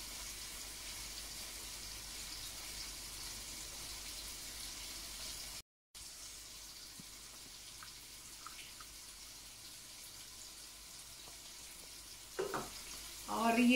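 Chicken mixed with yogurt fries in a pan with a steady, soft sizzle throughout, joined by a few faint clinks and a brief louder clatter toward the end.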